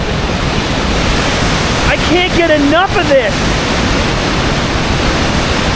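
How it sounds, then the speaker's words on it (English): A strong waterfall at the abandoned Anyox ghost town roars as a loud, steady broadband rush, filling the scene; someone speaks briefly over it. "Look at this waterfall,"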